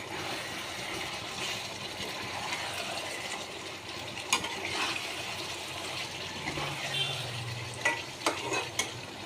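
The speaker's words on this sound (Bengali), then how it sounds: "দেখো বন্ধুরা, আমার চিকেনটা কষানো হয়ে গেছে।" Chicken being stirred and fried in oil for a chicken curry, a continuous close sizzle with scraping stirring strokes and a few sharp clinks of the spoon toward the end, no talking.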